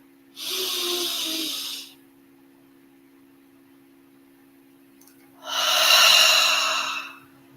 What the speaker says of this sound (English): One last time, inhaling through the nose, holding it for a couple seconds on top.